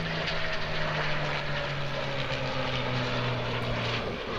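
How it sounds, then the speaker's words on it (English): Eurofighter Typhoon jet flying behind a Spitfire at the Royal International Air Tattoo air show, a steady loud engine roar with a droning propeller hum held throughout, no talking. "This aircraft, this Typhoon, can go supersonic speeds, and yet it can also fly behind a Spitfire"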